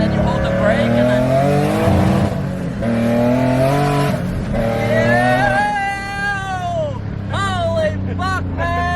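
A 600-plus horsepower Nissan 350Z does a brake-boosted launch and accelerates hard, its engine note climbing in pitch, with excited voices talking loudly over it throughout.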